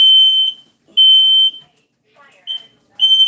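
A shrill smoke alarm in a home kitchen, set off by cooking, sounds in sharp, repeated beeps, about four bursts in a few seconds, with a faint voice in the gaps.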